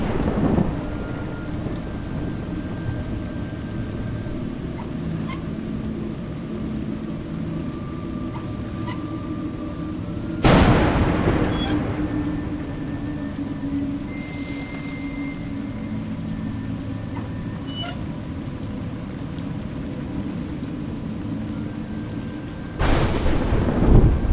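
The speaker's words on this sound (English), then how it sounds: "It's raining." Video game rain pours steadily throughout while several loud thunder cracks and rumbles break in, one near the start, one midway and another near the end.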